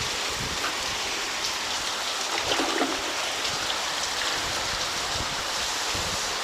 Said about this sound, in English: this rain is blowing, trying to chase me off the veranda